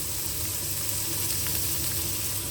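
Carrots sizzling in a pan while frying for spaghetti sauce, a dense, steady crackling hiss that holds evenly and fairly close with no talk over it.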